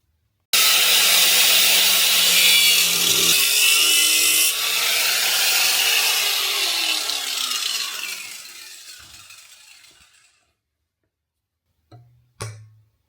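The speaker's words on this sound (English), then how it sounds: "I'm going to go ahead and just nip off two of these corners here with the grinder" Angle grinder cutting the corners off metal spring compressor claws, a loud steady high-pitched whine for about ten seconds that spins down and fades, followed by a couple of short clanks.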